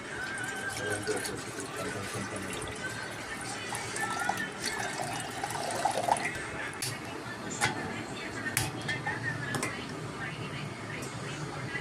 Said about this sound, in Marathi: आता पाणी टाकतो